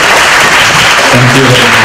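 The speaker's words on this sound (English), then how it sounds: "Please join me to give a big round of applause to our discussants or panelists here" A conference audience applauds the discussion panelists, a loud, even wash of clapping, with a voice rising near the end.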